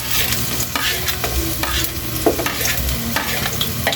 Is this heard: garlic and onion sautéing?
yes